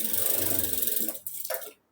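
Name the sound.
sewing machine stitching edge of blouse cups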